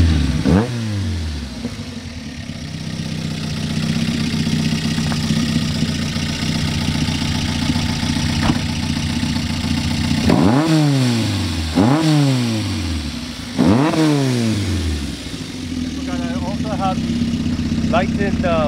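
A 1985 Honda CR-X with a lightened flywheel idles close by and then revs several times in quick, sharp blips that fall straight back to idle, with people talking over it.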